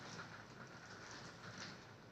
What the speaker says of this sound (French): Wow, il pleut trop.